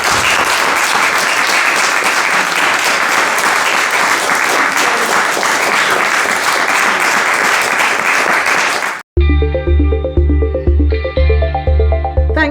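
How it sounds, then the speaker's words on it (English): A crowd claps loudly and steadily for about nine seconds, then the applause cuts off abruptly and upbeat music begins. "let's give them a big round of applause"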